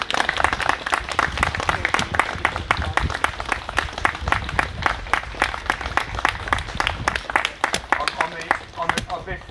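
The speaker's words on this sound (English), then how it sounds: "I want a big round of applause for both these children and the children in Gaza" A crowd at a protest against Elbit Systems in Oldham breaks into sustained applause. Dense, rapid clapping runs without a break for nearly ten seconds, with crowd voices mixed in.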